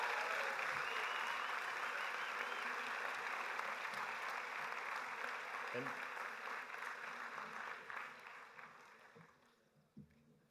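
Graduation audience at the Westminster Class of 2017 commencement breaks into broad, sustained applause that fills the room, fading gradually near the end with a few last claps.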